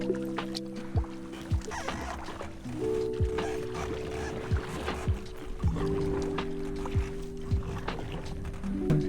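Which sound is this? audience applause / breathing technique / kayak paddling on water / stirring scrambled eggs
kayak paddling on water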